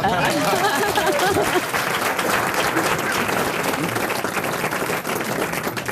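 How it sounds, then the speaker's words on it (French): A studio audience at a French radio comedy panel show bursts into loud, dense applause that holds steady throughout, with murmuring voices and chatter mixed in close. "on peut l'applaudir"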